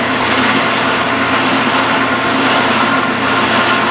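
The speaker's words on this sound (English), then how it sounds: "I've got a clutch on this lathe. So when I get in there deep enough, I'll just back the clutch on." A metal lathe runs steadily with its clutch feed engaged, giving a continuous broadband whir and hum with a faint high whine, constant in level and with no talking.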